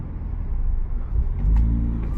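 A manual car's engine idles at the clutch biting point, heard from inside the cabin as a loud, steady low rumble that dips briefly and then swells slightly heavier as the clutch takes up.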